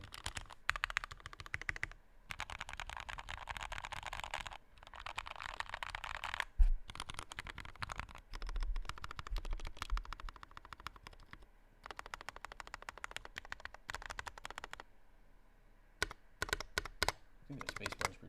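Mechanical keyboard typed on in bursts of quick, close clacking keystrokes with short pauses between runs and occasional heavier thumps, like the space bar or shift, and light background sound.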